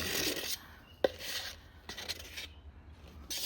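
A soft spatula scrapes cured resin out of a silicone mold for a trinket tray, giving a close, dry rasping drag in several short strokes with a sharp tap partway through.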